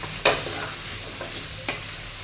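Gongura leaves with coriander and curry leaves sautéing in a pan: a soft, steady sizzle broken by two sharp scrapes of a spoon stirring the greens.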